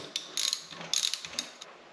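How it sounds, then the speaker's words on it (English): A hex socket working on an engine cover of a Honda Trail 125, making quiet, close ratcheting clicks in a few short bursts. "I've got a hex socket. I'm gonna go ahead in here and remove this cover."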